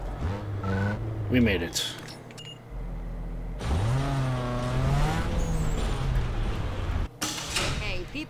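Tires skid and a car slides in Need for Speed Underground 2, with engine tones sweeping up and down, several squealing bursts, and talk over the game sound.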